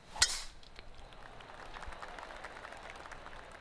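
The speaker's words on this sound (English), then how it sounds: "Oh, golf clap, that's a beauty." Soft golf-clap applause from a gallery in the PGA 2K23 golf video game follows a sharp impact, a sparse patter of polite clapping lasting a few seconds at low volume.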